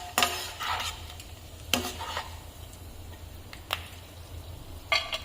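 Grated fresh coconut is sautéed in a pan for sabudana kheer. Scattered spatula scrapes and taps stand out over a faint, steady low sizzle, with a few sharper clinks spaced a second or more apart.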